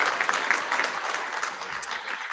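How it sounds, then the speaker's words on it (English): Brief, steady applause from a school assembly crowd at a senior prize giving, a dense wash of clapping with no pauses. "Let's give her a round of applause."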